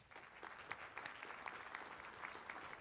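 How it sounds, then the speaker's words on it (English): Steady applause from a conference plenary audience fills the whole stretch, dense and even, with scattered louder claps standing out. "Let's give her a round of applause"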